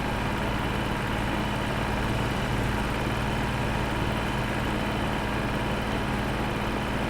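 A tractor engine idles steadily in Farming Simulator 22, a constant loud low-pitched drone with a droning hum and no change in speed, alone without talk.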